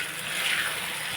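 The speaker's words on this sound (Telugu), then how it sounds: "వాటర్ వేసుకున్నా" Water poured from a glass into mutton curry in a pan, a steady close gushing pour that stays even for about a second with no voices.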